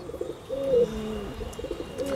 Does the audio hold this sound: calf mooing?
no